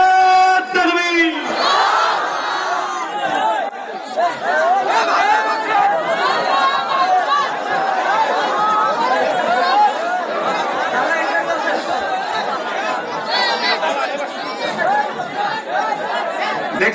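A large crowd of excited young men at an outdoor religious gathering shouts and chatters loudly and continuously, a dense wall of overlapping voices with a few raised cries standing out.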